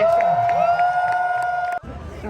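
Outdoor street-performance audience in Washington, DC shouting and cheering together on cue, a loud sustained burst of many voices that cuts off sharply near the end, leaving a quieter murmur.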